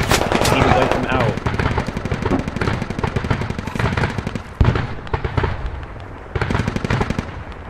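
Rapid bursts of automatic gunfire from a squad-based shooter game crackle loudly and almost continuously, with voices talking over the shooting.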